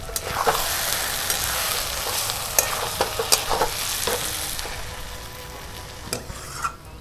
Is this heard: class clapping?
no